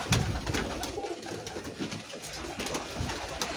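Flock of grey pigeons cooing at a loft, soft repeated coos mixed with wing flutters and light rustling, steady and fairly close with no talking.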